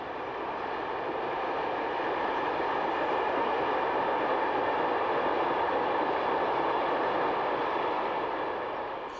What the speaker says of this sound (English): the next train puts in an appearance, this time a northbound mixed freight behind the usual RE66 and